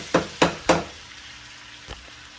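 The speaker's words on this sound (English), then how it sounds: "Take those onions, add them into that heavily infused oil and butter. Saute them." Onions go into a pan of heavily infused oil and butter to sauté, with three quick close knocks or stirs, then a soft sizzle and a faint later knock.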